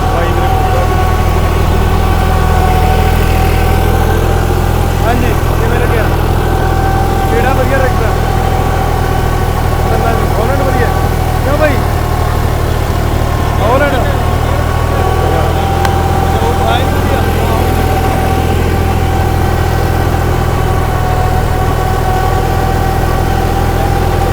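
A tractor idles loudly and steadily close by in a low, continuous rumble at a competition between New Holland, John Deere and Agri King tractors, with people talking over it.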